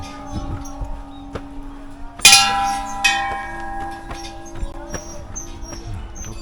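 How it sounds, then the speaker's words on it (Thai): A Thai temple bell hung at a Japanese-style temple, rung by pulling a rope: one sharp metallic strike at about two seconds with a long ringing hum, then a softer second hit, against quiet surroundings. "มี ระฆังกลาง มีเชือกไว้ดึง สร้างเสียง"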